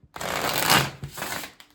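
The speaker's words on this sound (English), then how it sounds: "I'm going to give this a few good shuffles and carry on." A deck of tarot cards is riffled in one sustained papery burst, followed by a few shorter flutters as the shuffle settles, close and fairly loud.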